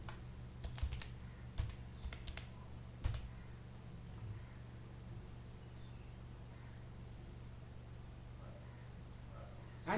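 A computer keyboard is struck in a short burst of crisp, close keystrokes as a command is typed, a handful of clicks in the first three seconds and then only a low steady hum.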